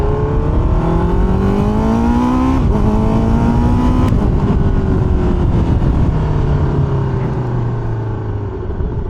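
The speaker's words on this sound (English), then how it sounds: "With the Akrapovic Raceline exhaust." A 2024 Honda CBR650R with an Akrapovic Raceline racing exhaust revs and accelerates through the gears, pitch climbing and dropping with quick shifts, close and continuous.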